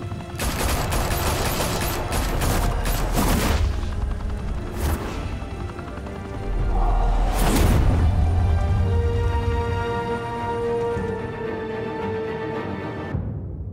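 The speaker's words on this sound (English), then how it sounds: "Open fire!" Video game gunfire during a rooftop mafia shootout in Batman: The Telltale Series, with loud dense bursts early on, later crashes, and a softer rumbling stretch.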